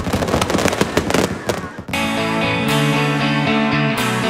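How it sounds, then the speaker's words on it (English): Fireworks burst over the Magic Kingdom at Walt Disney World, a rapid cluster of loud crackling pops for about two seconds before sustained music takes over. "fireworks over the Magic Kingdom."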